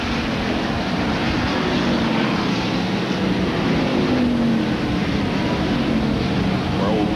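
Race cars roaring past at the Glen racetrack during the 1994 Bud At The Glen, a loud, continuous engine roar from the field going by, with a commentator talking over it.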